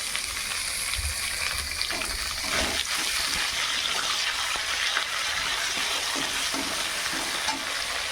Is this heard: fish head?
yes